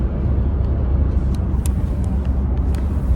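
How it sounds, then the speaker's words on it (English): A car driving on the road, heard from inside as a steady, loud low rumble of engine and road noise with faint high ticks above it. "So we're driving to church right now."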